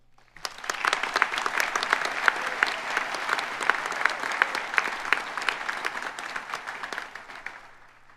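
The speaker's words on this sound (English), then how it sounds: "Please join me in applauding the contributions and achievement of Noella Mills." Sustained audience applause at a George Brown College convocation ceremony: dense, even clapping from a large crowd for about seven seconds, then tapering off at the end.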